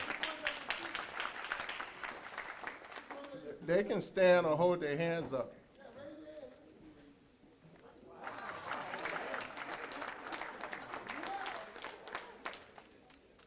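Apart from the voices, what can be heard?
round of applause for students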